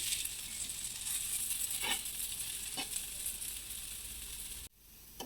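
A moong dal dosa sizzles steadily on a hot pan, with a constant close hiss, a couple of soft scrape accents, then a sudden drop near the end as it is flipped or lifted.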